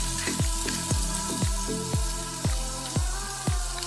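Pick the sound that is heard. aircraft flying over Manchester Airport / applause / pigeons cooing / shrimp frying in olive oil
shrimp frying in olive oil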